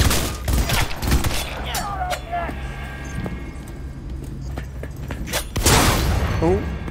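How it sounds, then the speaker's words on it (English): Enemy shotgun blasts in Cyberpunk 2077 gameplay: a sharp burst of loud shots at the start, a few scattered bangs in the middle, then another heavy blast near the end, over game ambience. "Oh, he's got a shotgun."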